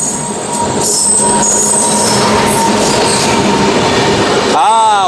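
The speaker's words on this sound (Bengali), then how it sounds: "সরাইঘাট এক্সপ্রেস হাওড়া গুয়াহাটি" The Saraighat Express on the Howrah–Guwahati route passes close at a station, a loud continuous rumble of wheels on rails with metallic squeal and clatter, ending in a brief wavering tone.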